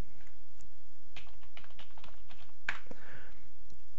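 Light, irregular clicking of keys on a computer keyboard, a short burst of typing with a sharper tap near the end, fairly quiet and without voices.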